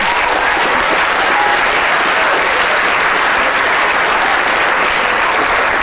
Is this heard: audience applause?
yes